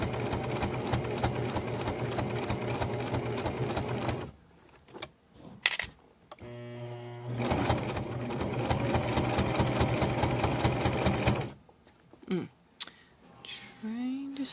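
A sewing machine stitches along the edge of a hot pad in long steady runs with a few pauses between them, loud and close, with brief handling noises in the gaps.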